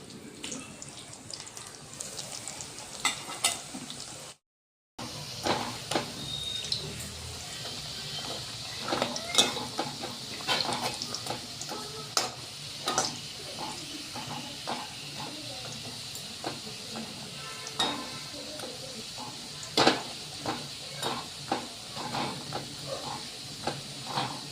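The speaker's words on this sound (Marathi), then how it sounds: "तुपामध्ये टाकून घ्यायचे, छान तळून घ्यायचे अंदर जाई शिजेपर्यंत" Churma laddu dough balls fry in hot ghee with a soft steady hiss and scattered light crackles and pops, fairly quiet, interrupted by a brief cut of silence near the start.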